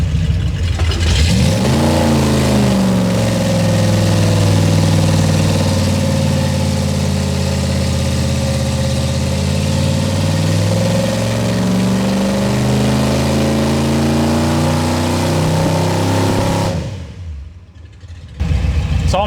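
Car engine in an EFI versus carburetor test, held at raised RPM with a loud steady drone that climbs briefly at the start and drops away near the end.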